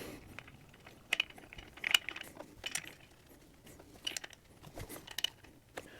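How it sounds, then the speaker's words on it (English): A 1/4-inch Allen wrench drives socket screws into a new water pump pulley cap, giving faint, scattered metallic ticks and small clicks at an irregular pace, close up and with no talking. "We're just going to use a 1/4-inch Allen wrench to drive these socket screws in."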